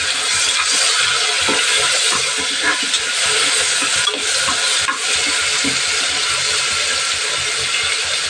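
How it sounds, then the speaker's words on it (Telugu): Ginger garlic paste sizzles loudly in a hot pan as it is stirred, a steady dense frying hiss with occasional soft scrapes of the spoon, close and continuous throughout. "అల్లం వెల్లుల్లి పేస్ట్ అయితే వేసేసుకున్నాం ఒకసారి అయితే కలుపుదాం"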